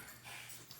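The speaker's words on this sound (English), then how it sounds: "the dog's gonna be growling, but it is what it is." A dog growls low and continuously in a brief, very quiet burst, heard close but faint with no talk over it.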